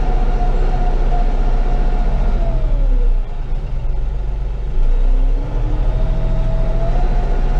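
A Bobcat compact tractor's engine drones loud and close with a low, steady rumble while driving forward and in reverse, the pitch dipping and rising as the linked throttle pedal is pressed and released, with no talk.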